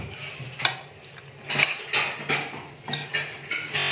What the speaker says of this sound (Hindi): इसको मैं अच्छे से मिक्स कर लेती हूँ